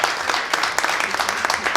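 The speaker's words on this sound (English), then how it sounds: "thunderous round of applause" A crowd at a tech demo meetup applauds steadily, many hands clapping in a dense, continuous wash of sound, fairly loud and close.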